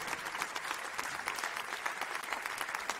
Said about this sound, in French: On peut applaudir effectivement